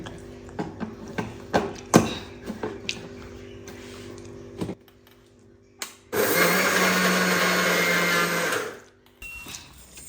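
A mixer grinder coarsely grinds niger seeds with garlic and red chili. Several clicks and knocks come first, then the motor whirs loudly for about three seconds and stops, followed by quieter handling sounds.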